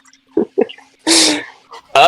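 A single close sneeze bursts out loudly overhead, a short broadband blast preceded by a couple of brief vocal sounds and followed by another noisy burst.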